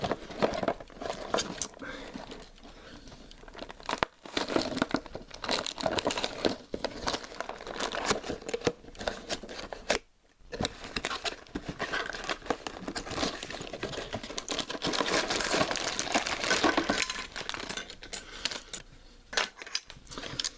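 Plastic bags of LEGO pieces for a Jurassic Park Velociraptor Escape set being handled, crinkling and rustling in bursts near the microphone, with a brief pause midway.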